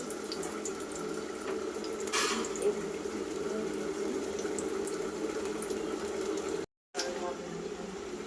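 A Mughlai paratha fries in hot oil with a steady, close hiss and sizzle that runs almost unbroken, cutting out briefly near the end, while someone talks over it.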